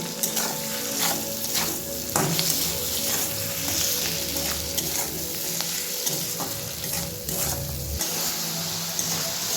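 Peas and chopped coriander leaves fry in a pan with a steady, close sizzle, broken by occasional scraping stirs and clinks of the utensil. No one speaks.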